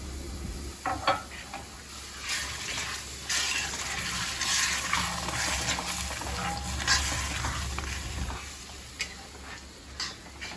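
Water hisses and sizzles as it is added to a hot pan of chana masala, a steady crackling spatter with faint clinks, no voices.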